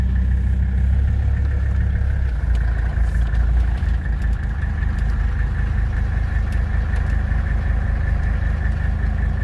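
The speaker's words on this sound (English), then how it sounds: "check out this diesel Rabbit pickup that just pulled in" Diesel Rabbit pickup truck engine idling close by, a steady loud low rumble with a constant hum throughout and no talk.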